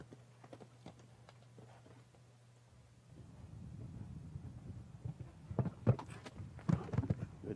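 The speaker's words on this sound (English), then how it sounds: "Second horse now on our Martin Auto course, Guillermo Obligato of Argentina." A horse moves across an arena show jumping course at a FEI World Cup jumping event in Thermal, California, with faint hoof beats at first, then a louder run of thuds and clops over a low rumble.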